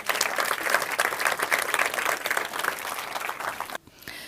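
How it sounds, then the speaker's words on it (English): A big round of crowd applause for Ukraine at a Global Peace gathering, loud and dense clapping from a large audience that cuts off abruptly near the end. "Let's have a big round of applause for Ukraine."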